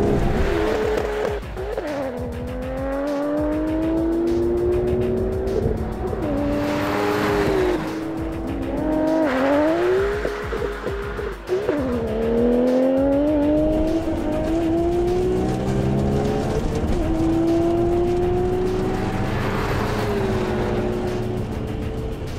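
Nissan R32 GT-R making fast runs, a loud engine revving hard through repeated gear changes with rising and falling pitch, close and continuous, with tire noise underneath.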